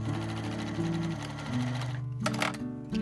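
A sewing machine topstitches the triple-folded hem of a remade sweater in a fast, steady, close mechanical chatter, with a brief rustle of fabric near the end.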